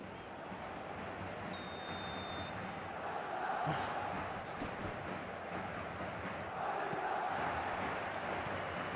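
Stadium crowd noise from an eFootball match, a steady dense roar of many voices with swells of cheering, continuous throughout at moderate level.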